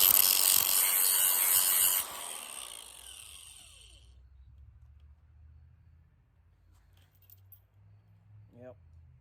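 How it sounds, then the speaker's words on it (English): An angle grinder grinds burrs off a metal target stand, a loud steady whine for about two seconds before it spins down and fades, leaving low rumble and faint clinks afterward. "Again, grind off the burrs."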